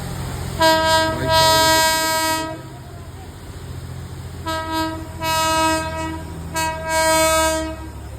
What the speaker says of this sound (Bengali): ট্রেন আসছে, এই দিক দিয়ে ট্রেনটা যাবে।